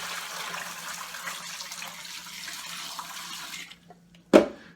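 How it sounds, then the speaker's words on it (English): Water pours in a steady rushing stream into a turkey brining container, then the flow stops and a single sharp knock or splash follows near the end. "I'm going to go ahead and put half the water in now"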